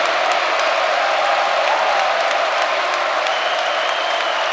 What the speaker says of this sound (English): Crowd getting on their feet.